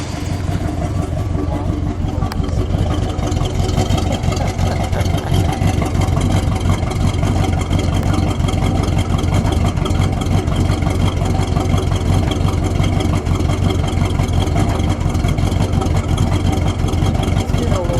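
A 1969½ Plymouth Road Runner A12 with a 440 engine running on six-year-old gas idles loud and close, a steady deep rumbling drone that holds without a break.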